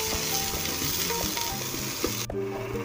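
Mixed vegetables with corn are sautéed in a pan for a potato sandwich recipe, a close, steady sizzle with faint stirring scrapes and a brief clatter near the end.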